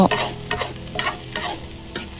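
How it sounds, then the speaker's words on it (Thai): Uncooked rice is stir-roasted dry in a pan for herbal chicken rice, with repeated scraping strokes of a utensil against the pan about every half second over a soft sizzle. "ทำมาคั่ว ก่อนที่จะเอาไปต้มนะเจ้า"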